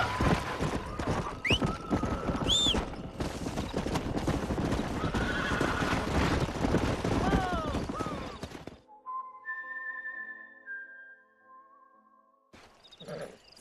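Horses neigh and whinny several times over clip-clopping hooves in Red Dead Redemption, moderately loud at first, then the field goes quiet apart from a faint whistle-like tone before a brief noise at the end.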